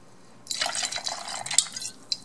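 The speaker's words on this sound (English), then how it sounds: "We're gonna add now half of our 750 milliliter bottle of rum" Rum poured from a 750 ml bottle into a pitcher of mojitos, a steady splashing pour lasting under two seconds, with a small drip or clink just after.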